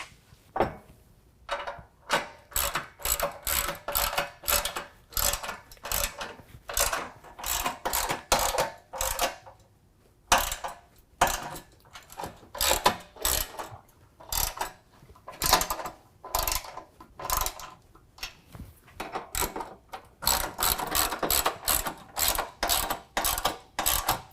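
A hand ratchet tightening the mounting bolts of Go Rhino Dominator DSS side step sliders on a 2016 Ford F-150 SuperCrew: loud, close bursts of rapid clicking, repeated many times with short pauses between strokes.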